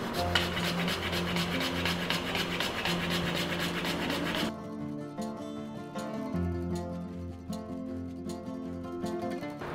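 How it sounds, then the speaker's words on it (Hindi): Lemon peel rubbed against a handheld kitchen grater, giving close, rhythmic rasping strokes that repeat steadily, louder for the first half and then lighter and sparser. "इस तरह का एक कद्दूकस ले लीजिए आप, जो भी आपके पास अवेलेबल हो, और छिलके के साथ हम इसको घिसना स्टार्ट करेंगे"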